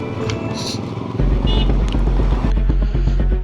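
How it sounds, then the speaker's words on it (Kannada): A motorbike struggling to start high on Khardung La pass, with loud, close engine cranking that catches briefly into rough, uneven chugging pulses, sputtering without settling into a steady idle. "ಬೈಕ್ ಸ್ಟಾರ್ಟ್ ಆಗ್ತಾಯಿಲ್ಲ"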